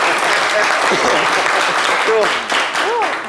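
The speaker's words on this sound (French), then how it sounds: "Applaudissements bien forts pour Shekina Yato" Audience at a live event applauding strongly, a loud continuous clatter of clapping with a few scattered voices and whoops rising over it.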